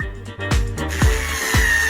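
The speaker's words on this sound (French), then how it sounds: "Je vais tout percer." A power drill boring into boards, heard up close as short repeated bursts, roughly one every half second, with thumps and rattles between them.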